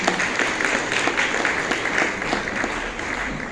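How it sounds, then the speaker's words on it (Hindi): Children applaud together at a kathak dance competition award ceremony, a dense, steady patter of many hands clapping at moderate volume for several seconds with no talk over it. "एक बार मैं बच्चों से कहूँगी कि आप लोग अपने लिए ताली बजाइए"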